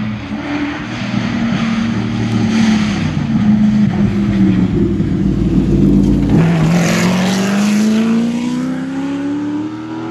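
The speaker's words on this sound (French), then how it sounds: "Est-ce que vous avez déjà entendu rouler une De Tomaso Pantera des années 70?" A 1970s De Tomaso Pantera drives past with a loud, continuous V8 engine roar, the pitch rising and falling as it accelerates and shifts, sustained throughout without any talk.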